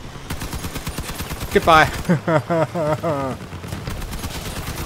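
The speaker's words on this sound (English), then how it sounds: "I'm being shot from multiple directions now." Rapid gunfire in the video game Crossout, a dense crackling stream of shots from several weapons that runs throughout, with someone talking over it midway.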